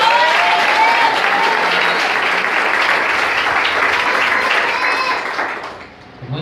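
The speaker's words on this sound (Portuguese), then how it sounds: "Vem bater palmas nessa manhã." Church congregation applauding during a morning service, a full, sustained wash of clapping that fades out near the end.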